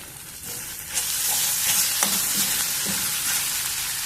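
Onions frying in a pan for potato curry, a steady sizzle with a spoon or spatula scraping and stirring through it at intervals.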